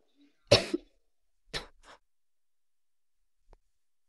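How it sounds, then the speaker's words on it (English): Two short coughs close to the microphone, the first sharp with a quick double burst, the second softer a second later, followed by quiet and a tiny click. "My apologies for my coughing"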